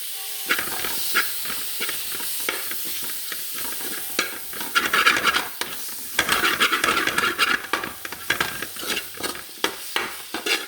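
Mutton biryani masala and tomatoes stirred in a hot pan, a spoon scraping and turning the mixture in a steady, busy rhythm over continuous close sizzling and hissing.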